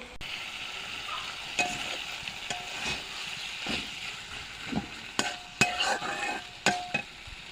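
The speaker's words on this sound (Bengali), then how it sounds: "আলুটা একটু কষাই আমি বুটগুলা দিয়ে দিব।" Potatoes and chickpeas with spices sauté in a pan in a home kitchen, giving a steady close sizzle broken by sharper scrapes and clacks of a stirring utensil, which cluster toward the end.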